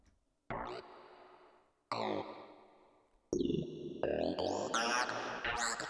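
Three bursts of synthesizer tone whose pitch wobbles and sweeps up and down under LFO modulation of the oscillator, growing denser and brighter toward the end, with no talking.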